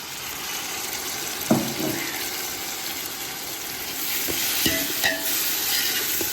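Green chillies and tomatoes fry in a pan for biryani with a steady, close sizzle, broken by a few sharp clinks of a stirring spoon, with no voices.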